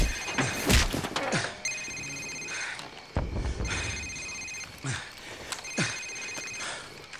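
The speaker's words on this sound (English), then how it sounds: "Sir, it's his cell phone." A cell phone rings in the video game Call of Duty 4, a repeating electronic ring in three bursts mixed with heavy thuds and crashes, loud and close, with no talk.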